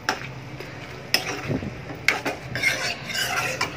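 A spoon stirs chole paneer in a cooking pot, giving soft scraping and rasping strokes with a few sharper knocks against the pot, close and fairly quiet.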